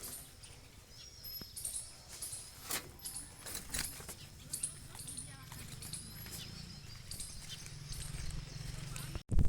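Hooves of bullocks clop along unevenly in a farm setting, a patter of scattered light steps with a voice talking over them and a sudden louder burst at the end.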